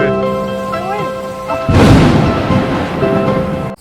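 Heavy rain pours loudly outdoors, with a sudden broadband roar and rumble of thunder swelling in midway and lingering until it cuts off, preceded by quieter background sound.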